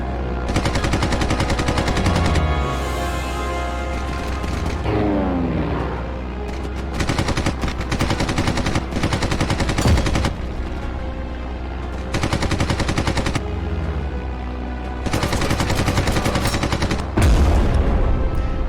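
Rapid aircraft machine-gun fire from the Nintendo Switch game Red Wings rattles in loud sustained bursts, broken by short pauses and layered over a steady engine drone and game music.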